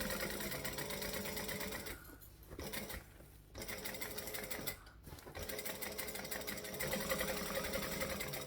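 A sewing machine stitches a quilt block in fast, steady runs, close and loud, pausing briefly three times as the fabric is turned around a corner before whirring on again.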